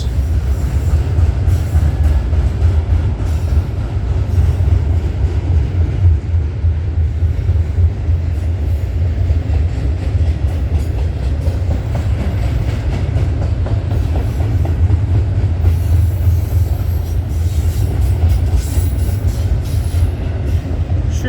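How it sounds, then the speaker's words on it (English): Westbound CN intermodal freight train passing trackside at night, a loud, steady low rumble of rolling wagons with rhythmic wheel clatter that continues for the whole stretch. "There's the end of that westbound intermodal train."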